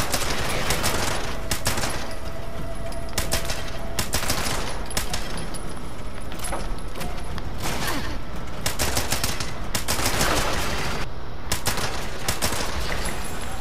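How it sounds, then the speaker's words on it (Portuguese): Gunfire at Protectron robots in Fallout 76 rattles on without a break, with dense, loud volleys of overlapping shots and steady game noise, and no voices. "Vamos destruir eles atirando"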